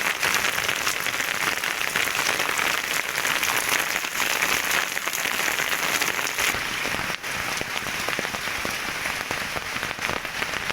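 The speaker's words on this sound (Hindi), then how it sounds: "ये देखना, बारिश शुरू हो चुकी है।" Rain with large, heavy drops falls on a wheat field in Sonipat during harvest time, a dense, steady patter of hits that stays loud and even throughout, with no voices.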